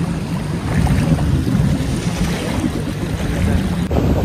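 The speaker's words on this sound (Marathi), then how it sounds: "दोन्ही साईडच्या खडकामधून आपण बोट आहे ना ती घालून जात आहोत" A fairly large boat motors between rocks on the Konkan sea near Sindhudurg, a low steady engine rumble mixed with water wash and buffeting wind noise on the microphone.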